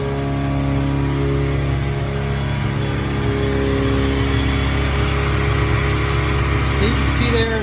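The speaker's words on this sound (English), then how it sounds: "I'm going to show you the engine running with that double pulley setup" A car engine fitted with a Racing Beat exhaust and a double alternator pulley, running at a steady, loud, close-up drone with a constant low hum and slight rhythmic flutter, no clear revving.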